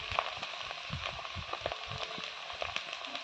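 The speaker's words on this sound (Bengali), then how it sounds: "হলুদ লবণ দিয়ে শামুকগুলো ভাজা করে নিচ্ছি" Snails frying in oil with turmeric and salt make a steady crackling sizzle with scattered pops and soft utensil knocks, close by and continuous.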